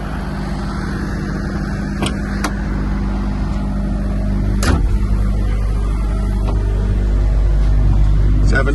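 A 2019 Kobelco SK210LC-10 hydraulic excavator's diesel engine running at a steady idle, a deep continuous rumble, loud and close, with a few faint clicks and bumps on top.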